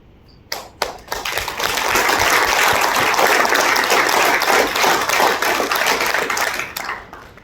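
An audience claps together, starting with a few scattered claps then swelling into sustained, dense applause for several seconds before cutting off, fairly loud and close.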